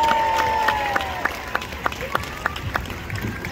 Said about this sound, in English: how about another round of applause for the stars of our show?